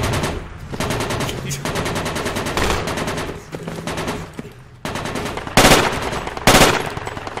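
Sustained automatic machine gun fire in the Project Reality military shooter game, loud, dense bursts running almost continuously, with a few sharper, louder blasts near the end.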